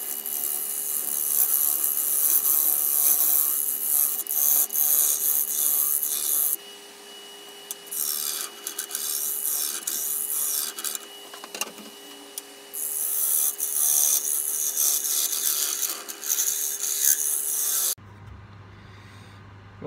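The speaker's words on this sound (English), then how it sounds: "sanding that down now." A wooden piece is sanded down for a woodturning pot, a continuous loud abrasive rubbing and rasping that swells and eases in strokes, with short quieter gaps and a soft hum underneath.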